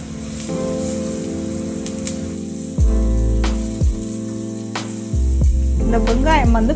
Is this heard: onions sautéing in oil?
yes